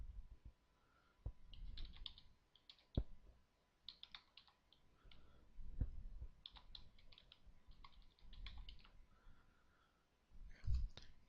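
Soft, quick keystrokes and clicks on a computer keyboard as a name and email are typed into a registration form, faint and close in an otherwise quiet room.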